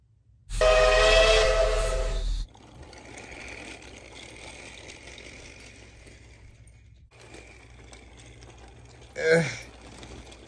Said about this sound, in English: That is a heavy train.